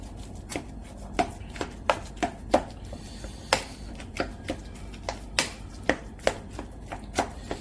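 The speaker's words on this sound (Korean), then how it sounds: "우선 주걱으로 잘 으깨주시고요" A spatula presses and taps against a bowl of steamed pumpkin in a steady rhythm, mashing it with about a dozen soft, squishy knocks close by.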